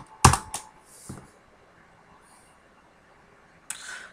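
A few clicking keystrokes on a computer keyboard while Python code is written, in two short bursts at the start and one at the end, with near silence between.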